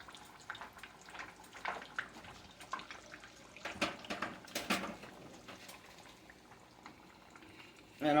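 Maryland chicken pieces fry in hot grease with a soft, busy bubbling crackle that swells and fades in irregular bursts, close but quiet, ending with a brief voice.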